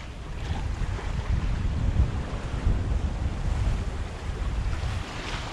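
Open-ocean waves and a 2.4 meter swell around a small sailboat on passage from Tenerife to Cape Verde, 200 nautical miles off Africa, form a steady broadband rush under constant wind buffeting the microphone, with no voices.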